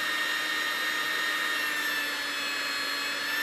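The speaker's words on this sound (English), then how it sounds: "I'm using my throttle trim on my controller. Break this motor in." An electric motor being broken in under controller throttle trim, giving off a steady, unbroken high whine that holds at one level throughout, close and alone with no talk.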